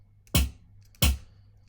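Two resonant synthesized snare hits, built in Serum with sub layers tuned down octaves: sharp, punchy, evenly spaced strikes with a brief ringing tail, heard alone.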